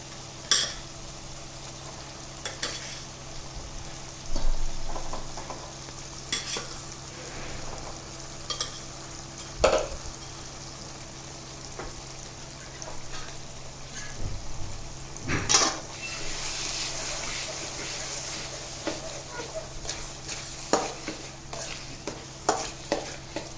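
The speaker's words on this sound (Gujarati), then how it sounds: "હવે આપણે તેમાં તૈયાર કરેલી ખીચડી નાખીશું." A spoon stirs Kathiyawadi masala khichdi in a pan, giving soft scrapes and light metallic clicks at irregular intervals over a faint background hiss.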